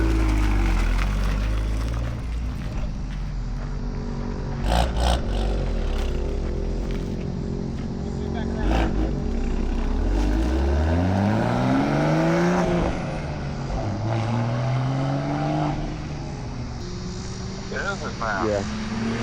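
Toyota Supra with a new ArmaSpeed intake and six-speed manual revs up under steady engine drone, rising and falling pitch sweeps as it pulls through gears at night, loud and close, with occasional voices in the cabin.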